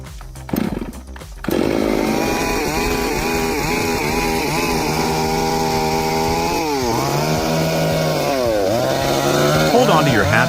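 A big chainsaw cuts into a large tree stump, its engine revving and bogging with a loud, continuous buzzing roar after a few brief starts and stops, close up, with a voice speaking over it.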